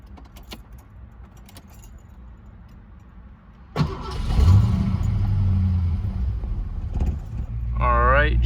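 Keys jingle close by before a 1991 Ford Mustang 5.0 V8 cranks and fires, then settles into a steady, loud idle that runs on through the rest of the clip.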